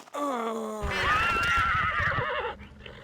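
A loud, close horse neigh in the video game Ultima Online rises into a long, quavering whinny and trails off, with no talk over it.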